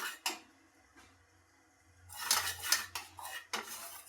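Metal spoon scraping and clinking against a pan while flour is dry-roasted for kanji, a few sparse taps and a denser scraping stretch, faint and close, with no talk.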